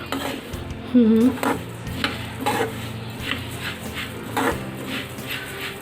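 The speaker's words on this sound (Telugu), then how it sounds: "మీడియం ఫ్లేమ్లో పెట్టుకొని దీన్ని ఫ్రై చేసుకుందామండి" Coriander seeds frying lightly in a pan over a medium flame, stirred with a utensil: a soft sizzle beneath intermittent scraping and light clinks, moderately close.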